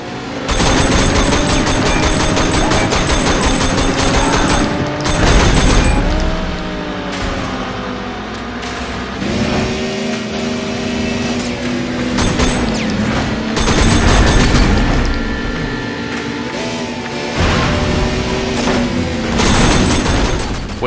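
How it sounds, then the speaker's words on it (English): Gunfire bursts and booms ring out over roaring car engines during a chase in the video game Sleeping Dogs, with loud clustered volleys recurring throughout alongside engine whine and impacts. "This allows you to catch up to an enemy, shoot out his tires, and then speed away to the next target."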